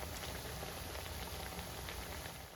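Kerala-style banana chips frying in hot oil, a steady, fairly quiet bubbling crackle of dense small pops with no pauses.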